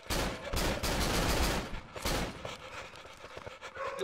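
Bursts of gunfire from above in the horror game Cry of Fear rattle in loud volleys for about two seconds, then thin out into scattered fainter shots.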